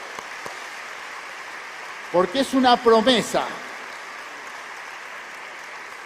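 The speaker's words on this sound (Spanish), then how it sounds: "Bien fuerte ese aplauso," A church congregation applauds in a steady wash of clapping through the whole stretch, while a pastor speaks briefly over it midway.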